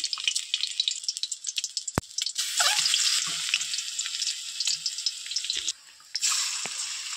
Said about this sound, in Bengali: এবার এটাকে আমি ভালোভাবে কিছুক্ষণ ভেজে নিব